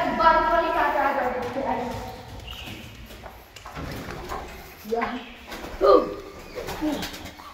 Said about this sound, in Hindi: देखो मंदिर में छत पे क्या कबूतर था